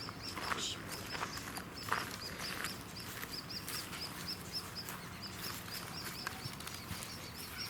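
Faint, high bird calls repeat through a quiet outdoor nature walk near Darwin, thin chirps over soft rustling background.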